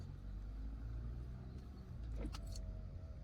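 A 2019 Mazda CX-3 2-litre automatic pulls away with a faint, low engine rumble heard from inside the cabin. A brief jangle of keys comes partway through.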